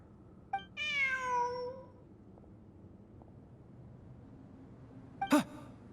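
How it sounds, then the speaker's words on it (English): A cat in the Genshin Impact video game lets out a drawn-out, falling meow, then a second short, sharper meow a few seconds later, both close and clear over a low ambient bed. "Look! A cat!"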